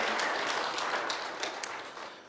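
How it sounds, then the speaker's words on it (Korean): Applause from a church congregation honoring its church-school teachers, a steady dense wash of clapping that fills the room and fades slightly toward the end. "우리 선생님들께 다시 한번 박수 한번 보내주시면 감사하겠습니다"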